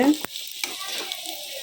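Pitha frying in hot oil in a pan, a close crackling sizzle with a sharp utensil tap near the start and bubbling fry noise throughout, no voices.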